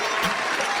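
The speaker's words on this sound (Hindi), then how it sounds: "सब खुशी से ताली बजाने लगे।" Wedding guests at a Rajput ceremony clap together in a brief, dense burst of applause, a steady crackling patter of many hands, fairly close and uniform for under a second.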